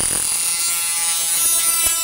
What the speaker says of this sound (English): I've just been playing around, cutting into a few things with the cutting wheels, like a lid of a can